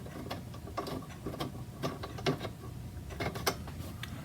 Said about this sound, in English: we can try this motor out